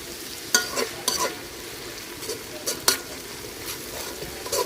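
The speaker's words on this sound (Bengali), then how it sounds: "মশলাটা ভালোভাবে কষাই নিচ্ছি" Spice paste with added tomato sauce being stir-fried in a home kitchen, with a soft background sizzle and a few sharp, irregular scrapes and clinks of a spoon against the pan.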